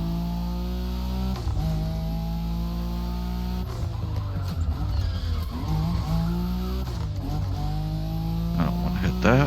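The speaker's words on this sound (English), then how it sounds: "trying to keep you just drifting sideways instead of 360ing" A car drifts sideways in The Crew, engine droning at steady rising pitch with tire squeal and skidding swelling midway, loud and continuous.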